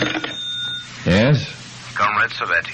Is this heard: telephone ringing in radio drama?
yes